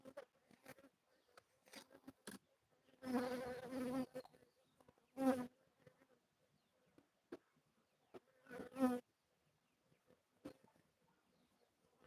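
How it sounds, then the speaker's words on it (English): A bee buzzes around in several loud, close passes separated by quiet gaps, each burst rising and fading as it flies near. "Okay, this bee needs to get going."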